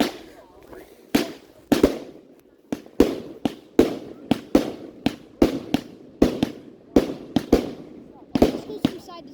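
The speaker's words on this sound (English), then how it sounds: "That was a scary firework." Fireworks bursting over Lobster Lake in Alexandria, Minnesota: a steady run of sharp, loud explosions about every half second, each with a brief rumbling tail, heard outdoors with faint voices in the background.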